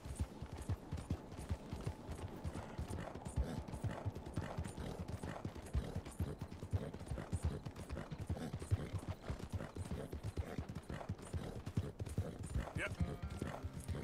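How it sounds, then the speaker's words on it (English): Hooves of a galloping horse in Red Dead Redemption 2 drum in a fast, continuous rhythm close by, with game sounds around and someone talking over them. "Yo, this horse does not want to speed up, dude."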